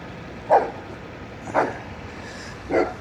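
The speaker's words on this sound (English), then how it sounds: "Got our guard puppy dog watching out over everything." A guard puppy barks three times at a distance, short single woofs spaced about a second apart over a steady outdoor background noise, with no talking.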